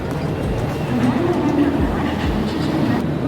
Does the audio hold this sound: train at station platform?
yes